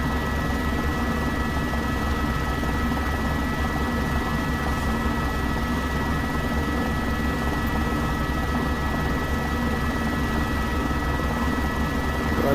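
An Airbus H125 helicopter in the X-Plane 12 simulator, flying toward Concordia base camp in the Karakoram, gives a steady, continuous rotor and turbine drone with a dense low rumble that holds constant throughout, with no talk.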